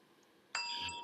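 A small hand bell is struck once, a bright ringing ding that rings on and decays over about half a second after quiet room noise.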